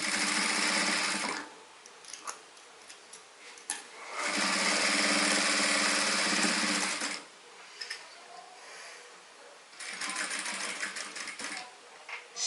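A sewing machine stitching a patchwork bag runs in three loud, steady bursts of a few seconds each, separated by quieter pauses with faint handling sounds.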